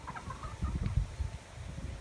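Hens cluck in a chicken quarantine cage, including a bullying black alpha hen, with soft, irregular low clucks and faint higher calls at moderate distance and no talk.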